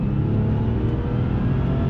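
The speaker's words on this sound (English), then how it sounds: "I don't think I'm actually revving it that hard" A 1998 Porsche 911 Turbo (993) engine revs steadily and loudly up close, a continuous dense turbocharged roar holding without breaks.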